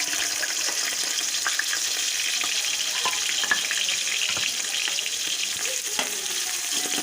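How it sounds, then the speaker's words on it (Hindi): Chopped onions frying in hot oil for chana pulao, a loud, steady crackling sizzle with scattered pops and occasional stirring, close up and without talk. "ऑयल हमारा गर्म हो गया है, अब इसके अंदर प्याज शामिल कर दूँगी।"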